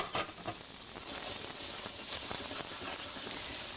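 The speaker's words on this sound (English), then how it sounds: "let them sizzle up a bit" Steady crackling sizzle of shallots frying in olive oil, close and continuous, with small pops and no voices.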